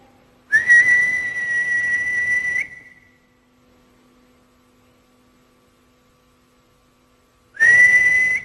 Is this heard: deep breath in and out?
no